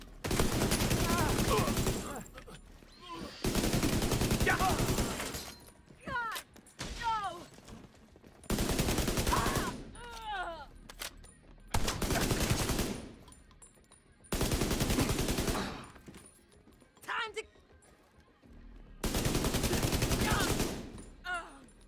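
Bursts of automatic gunfire in The Division, several long sustained volleys separated by short pauses, loud and close, with voices talking briefly in the gaps.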